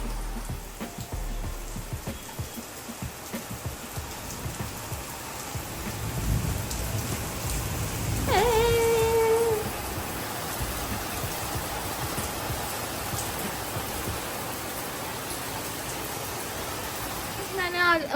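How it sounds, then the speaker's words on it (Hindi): Dense, steady heavy downpour hissing on surfaces throughout, with a brief Hindi voice partway through and a faint distant rumble. "बहुत तगड़ी बारिश आ गई है"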